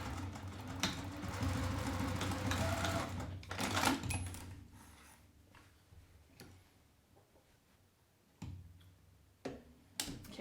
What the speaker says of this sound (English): And then I sew the bottom little section.